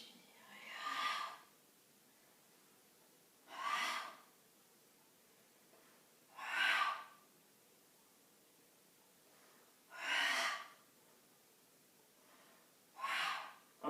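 Slow, deep breaths during an intermediate Pilates waist workout, five airy exhalations spaced a few seconds apart with quiet pauses between them, close and fairly soft.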